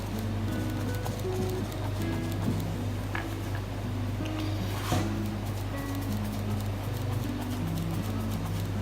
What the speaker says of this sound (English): it's Australian stormbirds, because I'm painting at night and they get quite active at night.